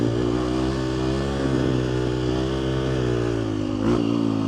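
A Husqvarna FE350 motorcycle, a 350 cc bike, idling and revving close by, a steady loud engine drone with a brief rise in revs near the end, no voices.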